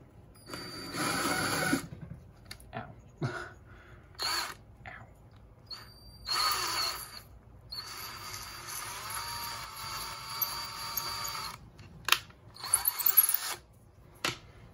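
A power drill boring a hole through a rock for a bead whirs in repeated bursts of varying length, stopping and starting as it bores, with quiet pauses between runs.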